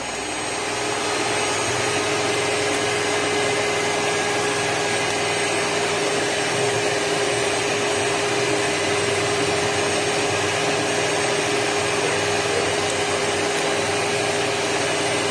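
An electric mixer whips egg whites into meringue for a floating egg-white pudding, a loud, continuous high-speed whirring hum that holds steady throughout with no voices.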